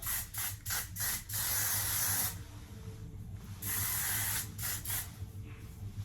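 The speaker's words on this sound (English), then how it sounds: "Shine spray." Hair shine spray misted from an aerosol can, with several short hissing bursts followed by a longer continuous spray, then more quick bursts, close and fairly quiet, with no talk.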